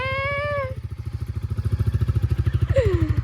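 A motorcycle carrying passengers pulls away. Its engine putters in a steady, rapid pulse that grows louder and rougher, and a wavering high-pitched cry rises briefly at the start and again near the end.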